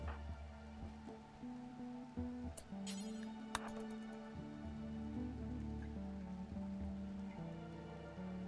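RimWorld rain makes a faint, steady patter on surfaces under a low, droning game music bed, with a few brief chimes.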